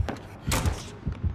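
Loud thud of a survivor vaulting in Dead by Daylight Mobile, a few heavy low impacts in quick succession with no talk over them.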